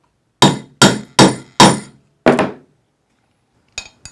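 A hammer drives a setter onto a line 16 Segma snap resting on a metal anvil, giving five sharp, ringing strikes at an even pace, a short pause, then two lighter quick taps, all close and clear.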